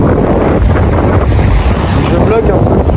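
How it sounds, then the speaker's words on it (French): Strong wind roars and buffets the microphone at a beach, with waves and surf washing underneath in a loud, continuous wash. "là on est à la plage"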